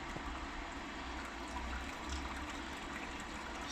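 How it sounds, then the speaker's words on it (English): Hot sparge water, around 75 degrees, running over a bed of mashed dark grains for an Irish stout, a faint, steady pouring and trickling wash with no talking. "I'm just going to sparge with some 75-degree water here, just to get our pre-boil volume."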